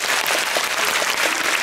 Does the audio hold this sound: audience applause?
yes